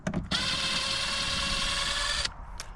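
Power drill loosening long bolts on a Sea-Doo Spark, one close, steady high whirring burst of about two seconds, with brief clicks just before and after.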